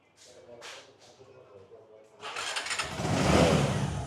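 A used 135 cc motorcycle being started at a bike dealer: several short mechanical cranking bursts, then the engine catches and settles into a steady, close idle.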